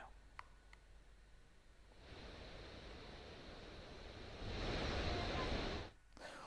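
The Beas river in Himachal Pradesh's Kullu district runs fast and swollen after heavy rain, a broad rushing hiss that grows louder partway through before dropping away near the end.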